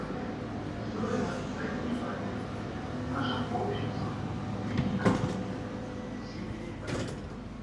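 Inside a nearly empty Moscow metro train car during a ride, a steady low rumble of the moving train with occasional clunks and rattles, with faint voices in the background.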